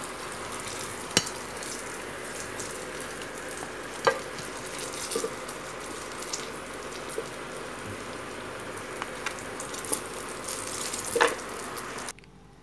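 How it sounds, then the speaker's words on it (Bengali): Spicy eggplant slices fry in oil with a soft, steady sizzle and scattered sharp pops, fairly quiet and close, before the sound cuts off at the end. "এপুট টুপুট করে ভাজা হয়ে গেলে এগুলো এখন আমি তুলে নিচ্ছি"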